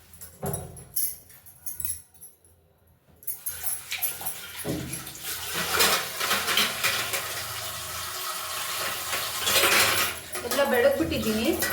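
Dishes, pots and pans being washed after breakfast in a home kitchen, with clattering cutlery and running water building into a steady, busy wash; the opening seconds are quieter with a brief lull before the clinking and splashing take over.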